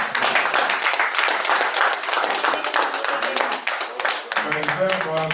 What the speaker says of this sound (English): Please, we should applaud Mr.